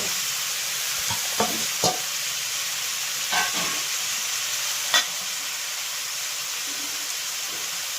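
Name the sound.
potato and carrot pieces stirred in a pan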